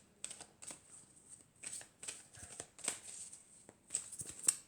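Oracle cards of the Triade deck being shuffled by hand, a close, quiet series of soft riffling flicks and papery slaps in an irregular rhythm, with no talking.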